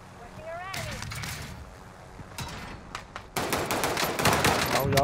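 Gunfire in a multiplayer video game: scattered single shots give way to dense, rapid automatic bursts that grow louder toward the end, with a voice speaking over the early part.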